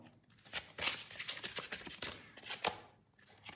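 Tarot cards shuffled and drawn by hand, a run of quick papery riffles and flicks with a few sharper snaps, close and fairly soft, with no talking.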